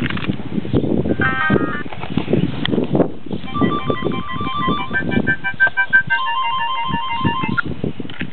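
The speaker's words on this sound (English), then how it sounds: "Ringtones." Phone ringtone tunes play loud and near, with melodic electronic tones that switch between styles, over clattering background noise.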